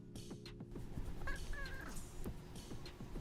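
A cat named Space Cat lets out a faint, brief meow or two against a quiet indoor background, with no one speaking.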